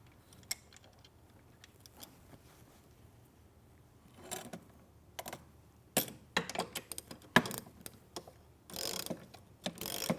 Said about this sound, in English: Then I can go back using my Allen wrench and my socket to tighten the first bolt assembly, the one we left loose.